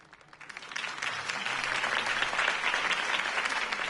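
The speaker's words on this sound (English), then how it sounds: "could have heard that applause" Crowd applause following a mayoral campaign speech in a Batman video game swells within the first half second, then holds as a dense, steady clapping roar from a large audience, with no voices over it.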